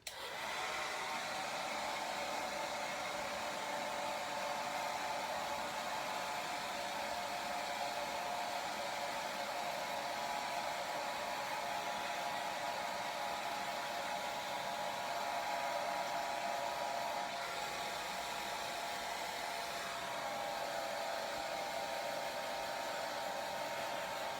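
A hair dryer blows with a steady whirring hum, constant and unchanging, with a brief shift in pitch partway through.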